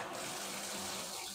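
Water streams steadily from a hotel bathtub tap, a continuous hissing splash that stays even and fairly soft throughout with no voices over it.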